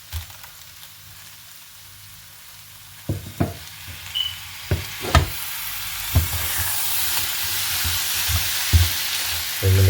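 Ground coconut is added to fish aviyal in a pan. It hisses in a steady sizzle while a spoon scrapes and knocks against the pan in a series of sharp, irregular stirring strokes, close and fairly loud.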